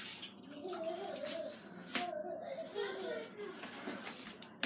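Water running from a tap while hands are washed during home baking, a soft, steady splash under a child's chatter nearby.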